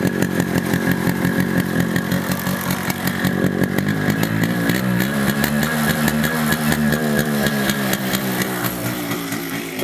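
A Yamaha RX100 motorcycle with a pickup problem runs loudly and up close, its engine buzzing raspily without pause and its pitch shifting midway as the revs change.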